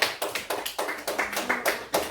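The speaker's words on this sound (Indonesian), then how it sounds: "tepuk tangan untuk kelompok 3" Classmates clap for a presenting student group, a rhythmic series of roughly a dozen sharp, evenly spaced claps in unison, close and moderately loud, with no talk over them.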